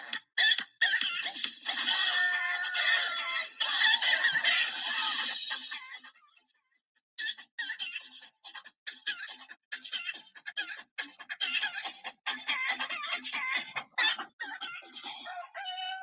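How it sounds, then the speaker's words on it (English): Chickens cluck and crow close by in a steady, busy chorus, with a brief pause midway before the clucking resumes and continues to the end. "Look at that chicken."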